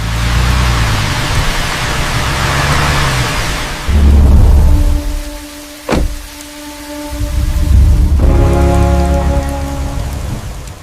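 Heavy rain hisses loudly and continuously, then a sharp crack of thunder cuts in with a rumbling tail before the downpour swells again, no voices over it.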